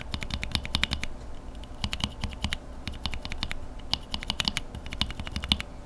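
Novelkeys Cream keyboard switches lubed with 205G0 are typed in a fast, uneven run of crisp, close keystrokes with clustered clacks throughout and no voices.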